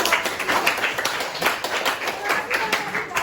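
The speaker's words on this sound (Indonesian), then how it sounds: "tepuk tangan untuk kelompok" A group in a classroom is applauded with dense, uneven clapping from several people nearby, while voices talk over it.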